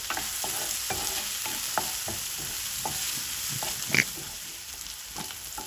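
Onions sautéing with a little salt in a pan for a fish curry, giving a steady soft sizzle with scattered stirring clicks and scrapes, one brief sharper clink near the end, close and alone with no talk.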